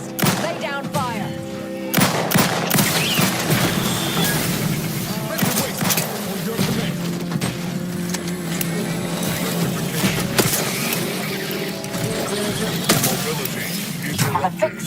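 Gunfire in The Outer Worlds 2, with dense bursts of rapid weapon fire, sharp impacts and explosions layered over a continuous rumble of game effects, with occasional spoken lines in between.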